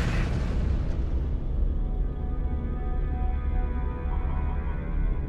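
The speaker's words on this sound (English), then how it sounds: "did anybody else hear laser cannons?" Laser cannon combat in the video game No Man's Sky produces a continuous deep rumbling roar of booms and blasts, loud and dense, slowly thinning in the upper range, with no speech.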